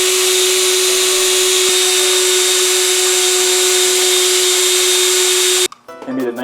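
A power drill spins an accordion pin wrapped in fine 2500-grit sandpaper, giving a steady, loud, even whine that holds for several seconds before cutting off abruptly into a brief mix of other sounds.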